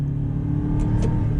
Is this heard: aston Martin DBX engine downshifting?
yes